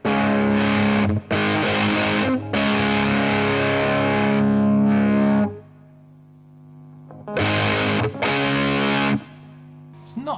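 Electric guitar run through a Fulltone Soul-Bender fuzz pedal with the dirt control turned all the way down, still gritty and distorted: loud sustained chords ringing, a near-silent gap, then more strummed fuzzy chords.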